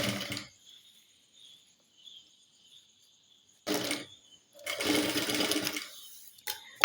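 A sewing machine stitches girls' uniform pant fabric in short separate bursts, each a loud close whir with quiet stretches between, under a faint steady high hum.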